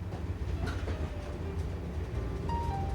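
The Canadian passenger train rolls along rails toward the Coast Mountains and Fraser River Canyon, a steady low rumble of wheels with faint clicks and brief high squeals, continuous and close throughout.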